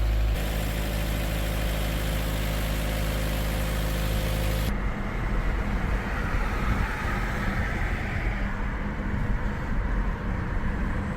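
A rebuilt Porsche Cayenne GTS idles with a steady, dense engine hum. After a few seconds the tone drops into a rougher, lower rumble that continues loud and close with no talking.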